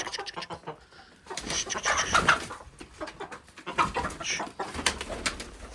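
Backyard chickens cluck and call in a busy, fairly close flock, with overlapping short vocalizations and some cooing-like notes throughout.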